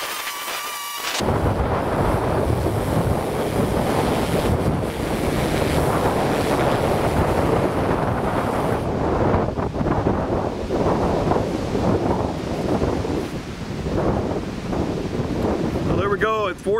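Strong wind buffets the microphone in a continuous roar around a flying DJI Matrice M210 drone, gusting throughout with a rushing, surf-like noise and no clear voices.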